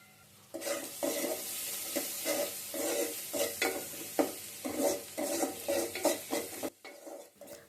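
Vegetables fry with turmeric in a pan. A spoon stirs and scrapes in steady rhythmic strokes over a continuous close sizzle, then stops abruptly near the end.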